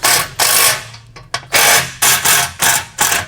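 A 9/16 socket ratchets down fender bolts on a MicroSport Overland trailer, producing loud repeated bursts of clicking and rasping, each lasting about a third of a second and separated by short pauses.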